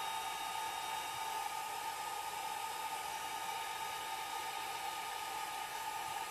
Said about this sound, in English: Put my dryer on the low setting.